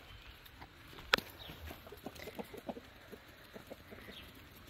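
Backyard garden chickens peck for a worm near a tomato plant, giving soft, scattered clucks and short throaty calls at moderate distance, with one sharp peep near the start.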